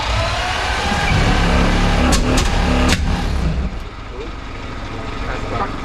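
A Lambretta RB250 scooter engine roars loudly and steadily on a dyno, with a few sharp crackling bursts partway through before the note drops and settles into a rougher running sound.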